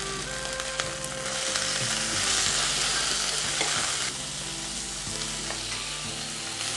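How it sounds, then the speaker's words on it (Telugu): Tomato pieces fry with onion, ginger and garlic in a pan, giving a loud continuous close sizzle that swells midway, overlaid with frequent spatula scraping strokes, and nobody talks. "సో దాని తర్వాత మనకి టమాటో ముక్కలు వేసుకుందాం."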